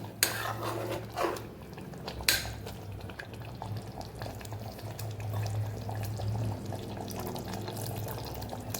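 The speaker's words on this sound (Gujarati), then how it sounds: "તો અહીંયા આપણે પોણા ગ્લાસ જેટલું પાણી ઉમેરી દીધું છે." Water poured from a glass into potato curry in a pressure cooker gives a close, continuous splashing pour over a low bubbling bed, with a couple of brief clinks early on.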